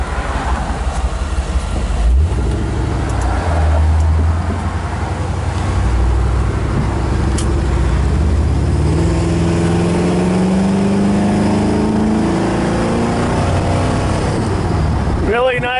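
A 1957 Chevrolet Bel Air convertible resto-mod accelerating on the road with the windows up, its engine note rising steadily as road and wind noise build underneath someone talking throughout.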